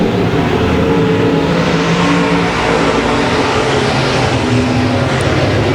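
Dirt track race cars roaring around Boothill Speedway in Louisiana, a dense, continuous wall of loud engine noise from several cars racing together, steady throughout with no pauses.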